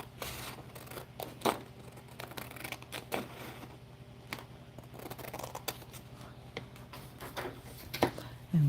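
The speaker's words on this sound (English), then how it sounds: "And then we'll cut it here," Quiet scissors snipping paper for an altered book craft, a few sparse cuts and paper rustles spread across a faint, steady background hum.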